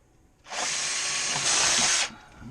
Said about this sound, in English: Just drilling a little 1-inch hole here for this water hose